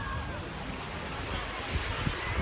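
Steady surf rolls onto the beach at Cabourg, Normandy, at high tide, a continuous roar of breaking waves mixed with wind buffeting the microphone.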